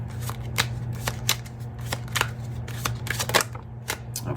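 Tarot cards are shuffled up close, producing repeated crisp riffling and slapping bursts at an irregular rhythm over a faint steady background hum.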